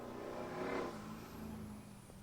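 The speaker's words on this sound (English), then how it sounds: "That's a motorcycle. Listen to that. Listen to that motorcycle." A motorcycle engine roars past nearby, rising and then fading as it speeds down the street, heard faintly at a distance.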